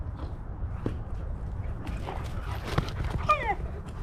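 An excited dog whines and cries in short rising squeals, close by over a low rumbling background, with scattered thumps and patters of movement around it.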